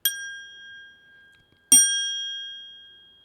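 A small bell dinged twice, each strike ringing out in long, pure, sustained tones like a singing bowl, the second ding louder and fading slowly, with no talking.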